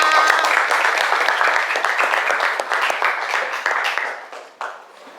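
Classmates in a classroom clap together for their peers, a dense, steady round of applause close by that thins out and fades over about five seconds.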